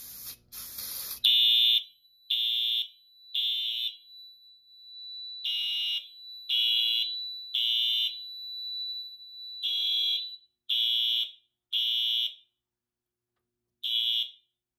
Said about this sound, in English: let's activate the smoke detector with actual smoke this time